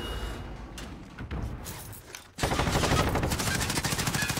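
Gunfire in Call of Duty Modern Warfare Warzone: scattered quieter shots, then a sudden loud sustained automatic burst with rapid repeated cracks filling the second half.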